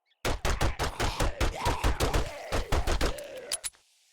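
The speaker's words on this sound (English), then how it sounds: "I might just go pistol for these guys" Pistol shots in 7 Days to Die fired in a quick, steady string of about twenty close, sharp cracks over a few seconds before stopping.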